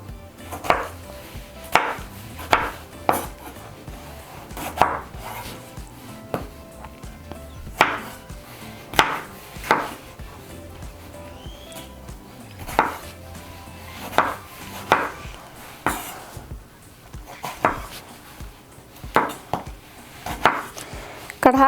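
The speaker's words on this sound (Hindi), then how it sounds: "मैं यहाँ पर इनको दरमियाने साइज़ का काटूंगी।" A knife chopping tomatoes into medium pieces on a cutting board for mutton karahi, sharp repeated knocks at an uneven steady pace, close and clear with no talking.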